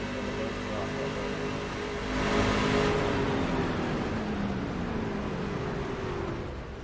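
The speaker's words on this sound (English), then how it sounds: "That engine just lost power." A race truck engine at Michigan International Speedway roars steadily, then its pitch sags and slowly winds down as it loses power, with a constant mechanical drone throughout.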